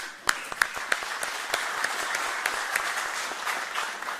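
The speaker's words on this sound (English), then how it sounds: "So we should applaud this gentleman here." An audience at a talk about investing in Ethiopia applauds an investor. Scattered sharp individual claps start the round, then it fills into a moderate, steady patter from a smallish crowd.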